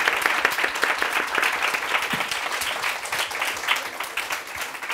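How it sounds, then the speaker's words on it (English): An audience at an art talk applauds after a conversation, a steady patter of many hands clapping at moderate distance, fairly even throughout with no speech. "I guess we should applaud and thank Kader Attia"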